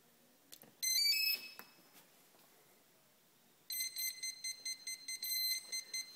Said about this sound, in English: one of my ESCs beeps continuously. It's sort of a fast beep